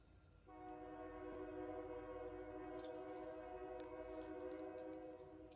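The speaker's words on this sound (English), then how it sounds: "you're going to hear a train in the background." A distant train sounds a long, steady horn chord over a low rumble of rolling cars, continuing without break in the background.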